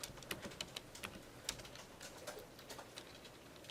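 Quiet computer keyboard typing during a programming session, with irregular soft key clicks and a few sharper taps over several seconds, close but low in level with no talk.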